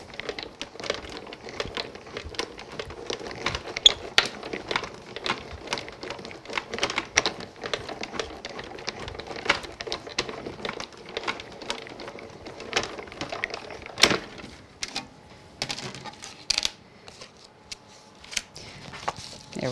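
A die cutting machine runs a detailed poinsettia die through glittery card. It gives off a rapid stream of crackling, crunching clicks while the card is pressed through, close and moderately loud, easing off near the end.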